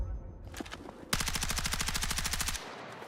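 Battlefield 6 rifle gunfire, a few single shots followed by a long rapid automatic burst, loud and close, then a quick stop.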